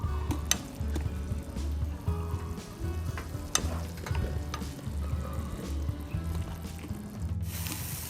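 Chinese sausage (kun chiang) frying in a pan, cooked in water until the liquid is gone and it fries in its own fat: a steady close sizzle with repeated scraping, stirring clicks and a brief brighter burst near the end.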